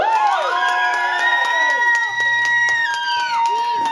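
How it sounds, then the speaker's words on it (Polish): Audience cheering and clapping at a small club concert at Fonobar, loud and close, mixed with whoops and shouts under bright sustained band tones while the band members are introduced. "przeogromne brawa"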